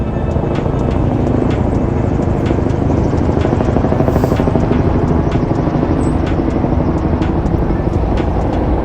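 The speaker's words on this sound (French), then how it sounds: "Je suis en train de parler, il y a un hélico qui passe," A helicopter passes over New York, its dense rotor throb and engine roar steady and loud throughout, blanketing the city ambience without a break.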